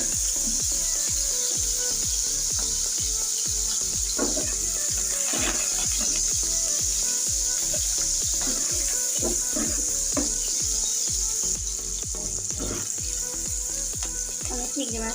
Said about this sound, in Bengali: সামান্য পরিমাণ লবণ দিয়ে তারপর মাছটা একটু আগে ভেজে নিতে হবে।